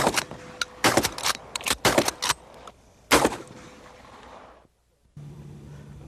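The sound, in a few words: gunshot from early black-powder gun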